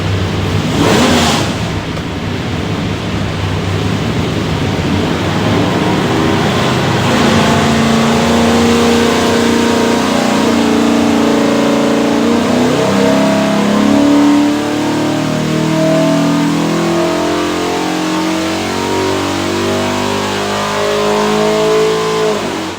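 A 347 Ford stroker V8 with a hydraulic roller cam and front-sump oil pan, built for a 1930 Ford, revs loud and steady on an engine dyno, its note climbing through a long sustained pull with no talk over it.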